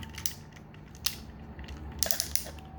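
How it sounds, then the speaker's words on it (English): Plastic joints of a Transformers Masterpiece MP-30 Ratchet figure being moved, giving a few sharp, close ratcheting clicks, one near the middle and a quick cluster near the end, over a faint steady background. "Very nice ratchets."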